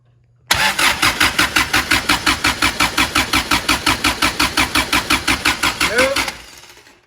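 A Toyota 22RE engine cranks on a cold start with a long run of even, rapid starter chugs at close range, then catches briefly with a rising whine before fading out.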